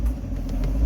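A Maruti Swift Dzire with a hard-starting fault idles just after being started, giving a steady low engine rumble that stays close and fairly loud for the whole moment, with no talk over it.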